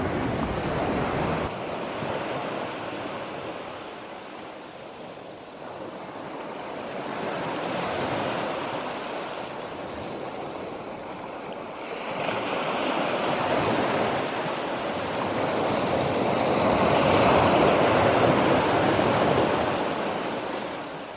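Ocean waves wash onto the shore in a continuous, broad roar that swells and recedes in slow surges, with some wind noise and no voices.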